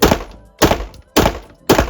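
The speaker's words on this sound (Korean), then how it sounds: "두 번째 탄창 이번엔 좀 더 빠르게 쏴볼게요" Four sharp gunshots from a revolver, fired rapidly and evenly spaced about half a second apart, each loud and close, with a short decaying tail.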